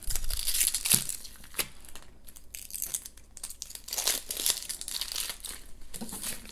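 Dry onion skin crackles and tears as it is peeled off an onion by hand, giving close, papery crinkling bursts that come and go without any talk.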